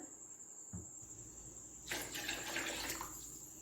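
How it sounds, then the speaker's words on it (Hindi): Yakhni stock poured into a pot of rice for beef seekh kabab biryani gives a short, splashy burst of liquid that swells and lasts about a second, close and clear over a faint steady background hiss. "अब मैं इसमें यखनी डालूंगी।"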